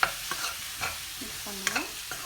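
A spoon stirs sambar with coriander leaves in a pan, giving soft scraping strokes and light sizzling at close range, with a few sharp clicks of the utensil and no talking.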